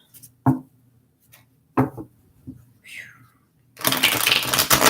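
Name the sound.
tarot cards being shuffled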